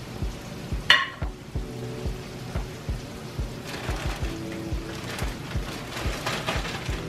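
Food frying in a breakfast skillet gives a low, steady sizzle with faint irregular pops and a few soft knocks of a utensil, one sharp clink near the start.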